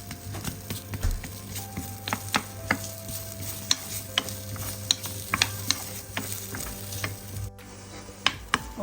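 Sliced okra (lady's finger) sautés in a pan for a spicy fry, with a continuous sizzle punctuated by sharp, irregular clicks and scrapes of a spoon stirring against the metal.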